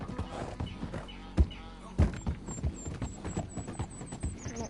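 Horse hooves clip-clop in the Red Dead Redemption video game, a few separate thuds against steady background game noise and music, with a faint high whistle-like tone near the end.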